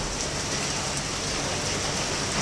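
Steady, heavy rain pours down in a dense, even hiss, close and loud, with no voices, during a motorcycle road trip.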